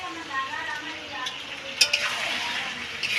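Chicken kosha stirred and served from a kadai at a busy market stall: a steady sizzle with scraping spatula strokes and a few sharp metallic clinks, with faint chatter in the background.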